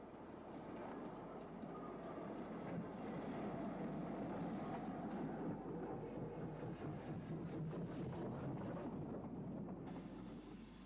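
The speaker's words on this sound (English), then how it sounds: "This is a train for Ventnor, seen from under the bridge" On the Isle of Wight, a train bound for Ventnor passes under a bridge, giving a continuous low rumble and rattle of wheels and carriages at moderate, even loudness, with no voices.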